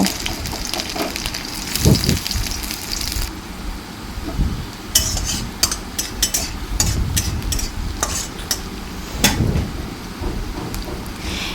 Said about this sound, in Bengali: সেই পেঁয়াজগুলোকে আমি একটু লাল করে ভেজে নেব।